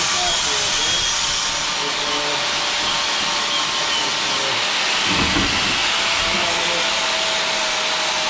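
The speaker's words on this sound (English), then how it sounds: "We'll take our grinder, you know, and we'll clean this off a little bit." An angle grinder whines steadily against a metal weld, cleaning it, a continuous harsh hiss with a brief rougher burst midway.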